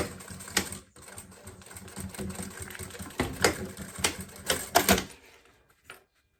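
A sewing machine stitches a zipper on a maternity bag at a 3.5 stitch length, running in quick rattling bursts separated by short pauses before it stops near the end.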